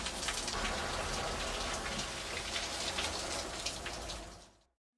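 Steady rain falls in a dense, even hiss with scattered drops pattering on surfaces, loud and unbroken before cutting off abruptly near the end.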